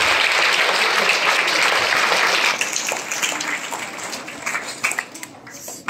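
An audience at a junior quiz competition claps for a team, loud and dense for a couple of seconds, then thinning into scattered, fading claps.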